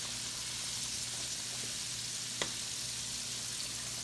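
Pig feet fry in hot oil with a constant bright sizzle, a low hum underneath and one sharp pop partway through.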